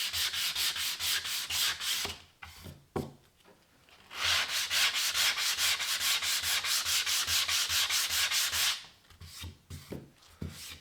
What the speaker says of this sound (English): I've got my sponge here and I'm just going to sand these roundovers.